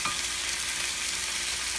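Salsa stirred into pork chops in a hot pan gives a short, steady frying hiss with no clear separate stirring strokes or voices.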